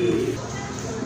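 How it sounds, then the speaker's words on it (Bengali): A Rajgolla pigeon coos in a loft, a low soft throaty call repeating briefly up close, over faint room background. "মাশাআল্লাহ আর এক জোড়া রাজগোল্লা কবুতর"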